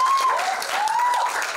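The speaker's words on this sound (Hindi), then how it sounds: "एक बार जोरदार तालियां प्लीज." Audience applause at a song launch event, a dense sustained clapping from a crowd that fills the whole stretch, with a faint tonal whistle-like sound gliding through it.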